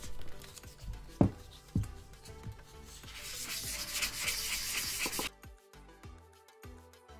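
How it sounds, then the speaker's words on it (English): A 3D-printed Pokéball is hand sanded with 400 grit sandpaper, giving close scratchy rubbing strokes with a few knocks and a sustained brisk hiss in the middle before slowing to separate short strokes. "I'm gonna sand this sucker and we're gonna get this smooth again"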